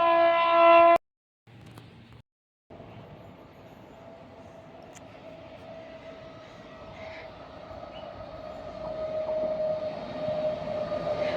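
A train rolls past close to a house, a steady low rumble with a long tonal hum that swells gradually toward the end, preceded by a few seconds of louder noise and brief gaps.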